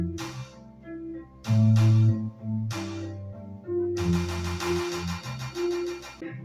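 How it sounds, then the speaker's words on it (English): A bowed melody plays in sustained, gliding notes over a steady beat with claps, bright and upfront, with no voices. "our violin. That's our violin."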